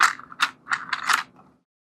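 The ring of a plastic sugar paste extruder being unscrewed by hand. A few short, close clicking scrapes come in quick succession, followed by silence.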